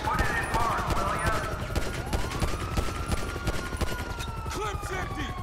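Rapid gunfire in GTA V with the LSPDFR police mod, shooting at a vehicle's tires. Dense crackling bursts sound close and continuous over a rising and falling siren wail.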